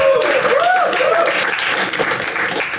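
Audience at a stand-up comedy show applauds for comedian Debarchan Mishra, a loud, steady wash of many clapping hands with a rising cheer or whoop riding on top.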